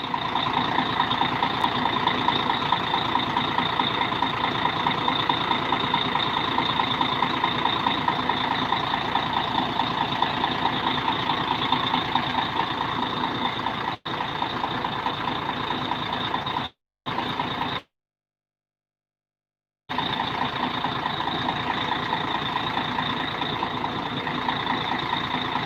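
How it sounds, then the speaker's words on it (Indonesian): The engine of a Litha intercity bus nicknamed Mamasa idles while stopped at a roadside kiosk, a loud, steady, close drone with a constant tonal hum. It drops out in a few brief gaps near the end. "Suara mesin 1836,"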